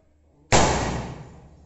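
A single gunshot hits a 5 mm aluminium plate, a sharp sudden crack followed by a bright ringing decay that fades over about a second, loud and close.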